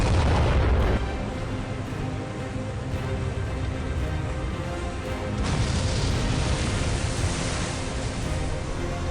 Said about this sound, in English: the Bismarck sends a cannon, and it directly hits the middle of the hood and goes into the ammunition storage and causes a ginormous explosion